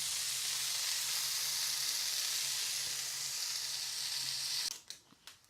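Pancake batter sizzles steadily in a hot frying pan with a loud, continuous bright hiss, then the sizzle drops away into a few soft kitchen clatters near the end.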